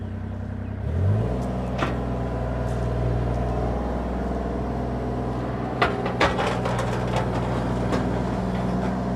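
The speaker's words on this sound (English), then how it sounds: "like new excavator here, we're going to fire it up," A 2024 Bobcat E35R2 mini excavator, an 8,000-pound-class machine, starts up and then idles with a steady low diesel rumble. A few sharp clanks stand out near the end.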